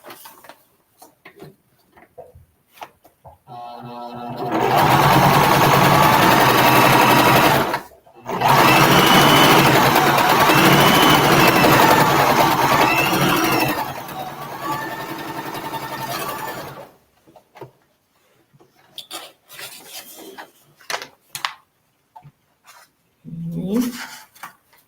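A sewing machine stitches fabric for a flower quilt block in two loud bursts of fast, steady running, split by a brief pause, then stops abruptly. Quiet handling clicks and rustles follow in a near-silent room.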